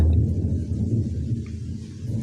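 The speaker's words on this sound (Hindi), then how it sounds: "मेघ जो बादल गरज रहा है उसका आवाज़ आप लोगों को सुनाई दे रहा" Low thunder rumbles steadily through heavy rain falling outdoors, a continuous deep roll with rain noise on top and no voices.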